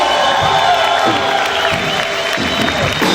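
A church congregation cheers, shouts and claps loudly in praise during a Spanish-language sermon, a dense roar of whoops and voices with clapping mixed in, loud and continuous in a reverberant hall.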